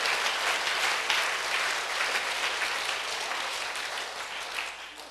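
A church congregation at a Sunday service at Sanseong Church claps loudly in a dense, continuous wash of applause that eases slightly toward the end.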